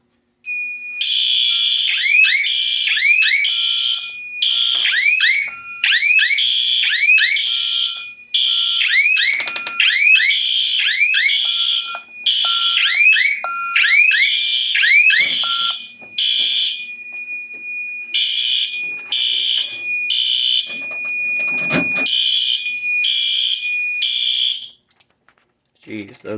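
A fire alarm sounds from an alarm board pull station test, blaring loud repeated pulsed electronic bursts in quick rhythmic groups with short gaps, then cutting off near the end.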